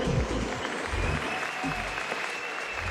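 Crowd applause at a professional fight event in Romania greeting two fighters before a title bout, a continuous wash of clapping with low rumbling noise and a faint steady tone underneath.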